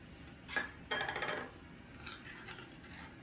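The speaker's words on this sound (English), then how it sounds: "I just mix the sugar" Sugar being mixed for a chili sauce with garlic, shallot, chili and vinegar: a few faint clinks and scrapes of a utensil against a dish, separated by short pauses.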